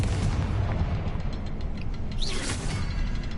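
A Confringo fire-blast spell in the Hogwarts Legacy video game, heard as a dense roaring blast with whooshing texture and a brief rising whistle partway through, steady and loud for the whole clip with no speech.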